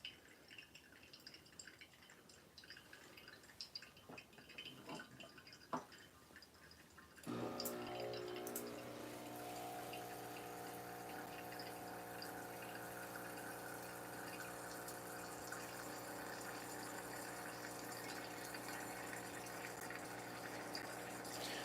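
Water is poured over Kenya espresso coffee grounds in a camping pour-over coffee maker, a quiet trickle that begins after a few faint ticks and then runs as a steady, continuous stream.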